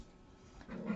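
Dogs playing indoors let out a faint, brief growl that swells in the final half second after a quiet start.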